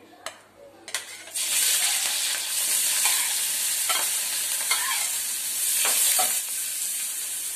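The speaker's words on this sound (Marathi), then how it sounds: "एक 4 चमचे तेल टाकलंय. त्यात 4 हिरव्या मिरच्या घेतल्यात आणि 1 कांदा घेतलाय" Green chillies and onion frying in about four spoons of oil for a Malvani okra dish, a steady loud sizzle that swells after a couple of brief clatters and carries on with occasional stirring scrapes.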